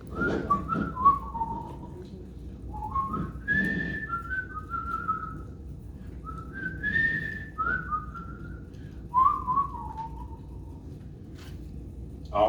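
A person whistles a melody alone, clear sliding phrases in short bursts separated by pauses, close and fairly loud with no talking over it.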